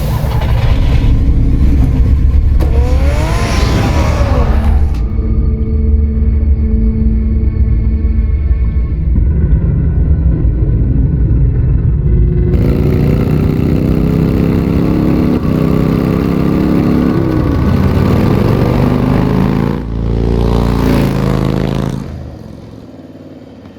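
Batmobile engine in Batman: The Telltale Series revving hard and continuously for about twenty seconds, loud and close with rising and falling pitch sweeps, then cutting off near the end.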